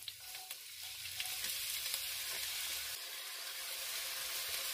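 Onions sautéing in oil in a heavy pot hiss with a soft, steady sizzle dotted with small crackles, fairly quiet throughout.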